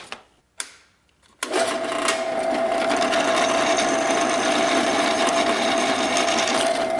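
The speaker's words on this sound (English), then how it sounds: "Now the final thing I got to do is drill all the holes on all these." A power drill bores holes in go-cart parts: after a couple of short knocks, the motor whines up to a loud, steady, high-pitched drone that runs on alone without pause.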